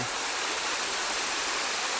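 A stream of flowing water gives a steady, even hiss of running water, fairly close, with no other sounds over the short stretch.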